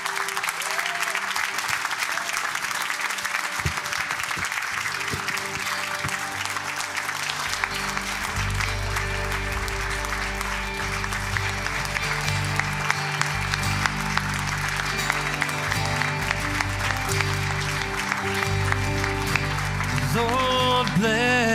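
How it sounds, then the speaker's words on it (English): Sustained applause from a large church congregation at a Sunday service fills the room evenly, with a low hum and some organ-like tones beneath it. "give them a round of applause for their years of service"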